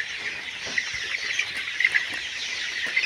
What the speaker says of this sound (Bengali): আজকে এই লেয়ার মুরগির বয়স 42 দিন